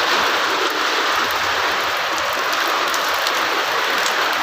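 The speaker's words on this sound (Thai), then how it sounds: "ฝนตกครับมื้อนี้" Heavy rain during a summer storm, a dense continuous hiss of drops striking surfaces, loud and steady throughout with no voices.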